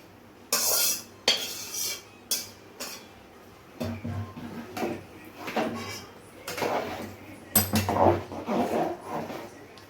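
Vegetables for a home-style spiced khichdi are stirred in a kadai (wok), producing irregular bursts of metal scraping and clattering between short quiet gaps, close up with no speech.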